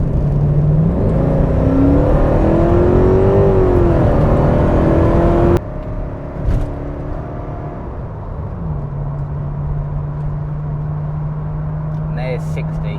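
A Porsche 928 S4 V8 accelerates hard from a standstill to 60, its engine rising through the gears with a loud, whirring roar before easing off to a steadier cruise. Voices talk over part of the run.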